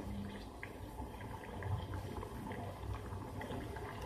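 Malvani prawn curry simmering in a pot at a steady boil, a continuous low bubbling and gurgling with a soft liquid texture, close and fairly quiet, with no talking.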